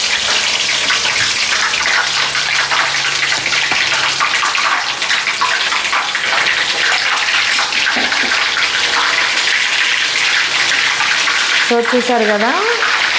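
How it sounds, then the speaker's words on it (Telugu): Ginger garlic paste frying in oil for a chicken pickle, a steady loud sizzle and crackle running throughout, with someone talking over it near the end. "ఇప్పుడు మనం ఇందులోకి ఒక 80 to 90 గ్రామ్స్ దాకా అల్లం వెల్లుల్లి పేస్ట్ వేసుకొని గోల్డెన్ బ్రౌన్ షేడ్ వచ్చేదాకా వేయించుకోవాలి"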